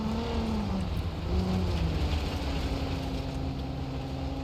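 A truck engine in BeamNG Drive holds a steady droning hum, its pitch drifting slightly up and down over a constant low rumble, moderately quiet and without voices.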